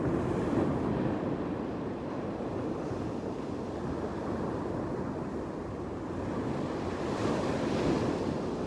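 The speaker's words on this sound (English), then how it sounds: "I figured y'all like to listen to the sound of the waves." Ocean waves roll and wash ashore in a continuous rumbling surf, heavy with wind buffeting the microphone, swelling slightly near the end, with no voices.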